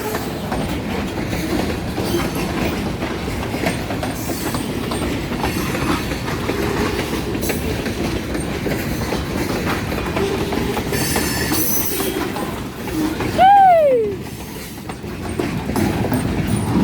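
Norfolk Southern freight train rolling past close by, a loud steady rumble of rail cars with rhythmic wheel clatter and a brief high wheel squeal near the end.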